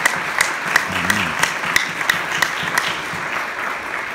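Strong applause from a church congregation, dense steady clapping with a few sharper individual claps standing out, sustained and fairly close throughout.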